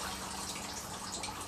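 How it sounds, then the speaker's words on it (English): Fine mist hissing steadily from an aeroponic sprayer onto plant roots in a backyard growing system, a continuous close airy spray with no voices. "There's your mist, aerates the bottom, creates a perfect atmosphere for these to grow."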